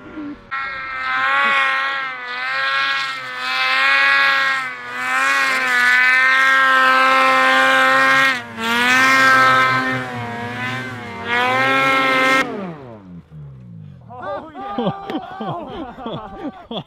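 Snowmobile engines, XM sleds climbing a spring snow chute, rev and whine loudly in long sustained surges, close by, before cutting off as people cheer and talk near the end.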